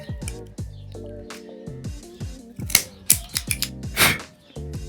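Short, sharp snipping and clicking sounds from a cigar cutter clipping the cap of an Aladino 85th Aniversario Reserva cigar, a few distinct close cuts followed by brief handling noises.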